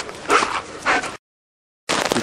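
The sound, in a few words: dog barking and whimpering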